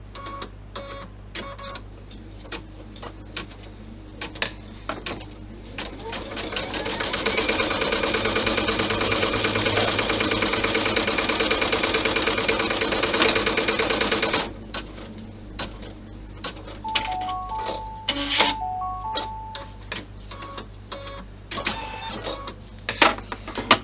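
An embroidery machine stitches a cloth clutch with a rapid mechanical clatter, a dense steady run in the middle, then intermittent stitching, close and loud, with faint beeps near the end.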